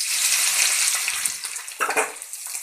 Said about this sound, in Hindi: देखिए ऑयल गर्म हो गई है, तब हम इसमें डाल देते हैं प्याज।